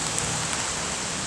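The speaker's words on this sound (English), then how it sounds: "It is raining really hard right now," Heavy rain pounds steadily on a building roof, a dense, even hiss of countless drops close by with no break and no voices.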